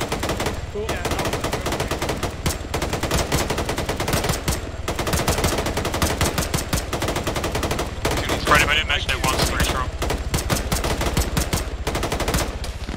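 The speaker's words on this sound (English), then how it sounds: "Shooting over you, Milo." In an Arma firefight, rapid bursts of automatic gunfire crackle almost without pause alongside scattered single shots, loud and dense, while voices talk over the radio.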